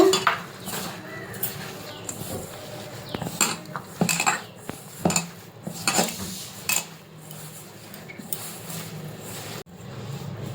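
Shrimp fritter batter with rice flour, chilli powder and salt being mixed by hand in a bowl, with irregular clinks and scrapes of utensil on dish and soft wet squelching, close and fairly quiet, no talking.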